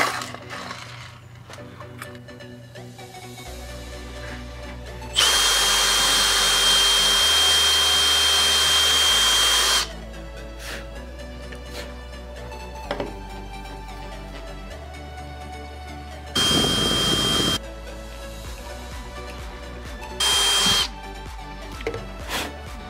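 A power tool works on wooden pieces while hinges are fitted, running in loud steady bursts, one long run of about five seconds and two shorter ones, separated by quieter handling noise.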